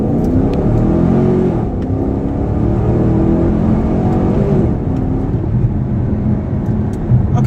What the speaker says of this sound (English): So we are currently in the 2015 Camaro SS.